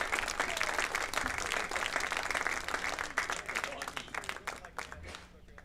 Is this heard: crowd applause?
yes